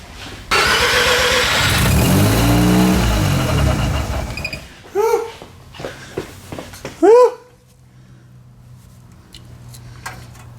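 A car engine, jump-started from a Milwaukee battery, cranks with a pulsing starter grind for several seconds, then catches and fires up, followed by a few sharp yelps or squeaks and a low idle.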